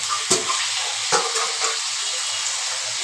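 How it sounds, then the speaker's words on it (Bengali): Water goes into a wok where potatoes have been frying, giving a steady hissing sizzle with a few brief clinks of utensils. No one speaks. "এই দেখো, এবার আমি দিয়ে দিব জল।"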